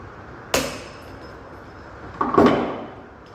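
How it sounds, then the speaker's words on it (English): A lump hammer drives a flat-head tool to strike the reverse-threaded clutch off a Husqvarna T542i chainsaw: two sharp metallic knocks, the second heavier and ringing a little longer, separated by quiet. "Going to need a decent lump hammer and a nice flat head."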